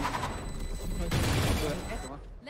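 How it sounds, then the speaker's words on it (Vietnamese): Rapid gunfire from the agent Chamber in a Valorant-style shooter game, a dense close burst of shots with booming impacts lasting about two seconds before cutting off abruptly. "Ủa sao con chamber nó bắn cái quả hộp gì vô duyên vậy?"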